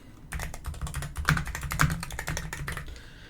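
Fingers type on a computer keyboard in a quick, steady run of close, crisp key clicks with a few heavier strokes, no voices.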